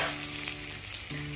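Curry leaves crackle and sizzle steadily in hot oil for a brinjal masala rice, a dense close frying hiss throughout, with a low hum beneath.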